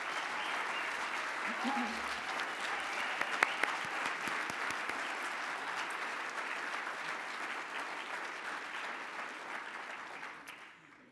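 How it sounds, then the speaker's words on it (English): An audience at a city neighborhood awards event applauds police, fire and code officers, a dense sustained round of clapping that fades out at the end, with a brief voice early on. "Would all of you stand so we give you a round of applause?"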